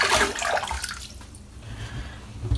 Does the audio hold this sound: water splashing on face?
yes